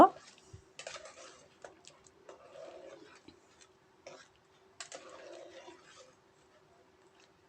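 Khichuri ingredients stirred in a cooking pot with mustard oil, a close metal spoon scraping and clinking in uneven bursts against the pot, over a faint steady hum.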